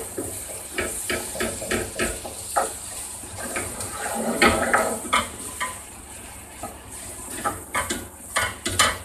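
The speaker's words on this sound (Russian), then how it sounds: "Размешаем хорошо." Minced meat frying in a pan for a potato casserole, sizzling steadily while a utensil scrapes and stirs it in repeated close clacks against the pan, with no talking.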